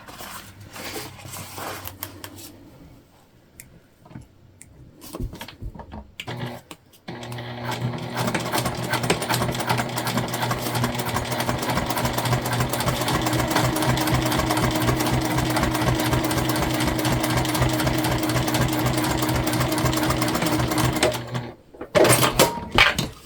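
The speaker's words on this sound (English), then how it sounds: "we're just going to top stitch the top part of our panel up" A sewing machine top stitches a crossbody bag panel, starting with a few short bursts, then running in one long fast rhythmic whir before stopping abruptly.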